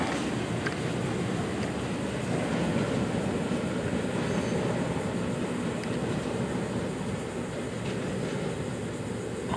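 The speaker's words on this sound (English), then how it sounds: "As the train creeps by." A train creeps slowly past a platform close by, a continuous low rumble and rattle of wheels that stays steady with no voices.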